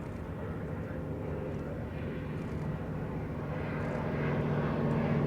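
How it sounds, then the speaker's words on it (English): Westland Lysander aircraft passing at the Duxford Battle of Britain air show, a continuous distant propeller-engine drone that swells slightly louder toward the end, heard alone without talk. "Blenheim visual with the Lysanders running in western."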